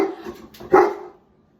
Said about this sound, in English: my dog isn't making it any better